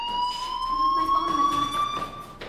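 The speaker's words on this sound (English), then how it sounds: "Hey, do you hear that fire alarm?" A school fire alarm in the video game Life is Strange sounds a loud, sustained electronic tone with harmonics, droning continuously through the whole stretch.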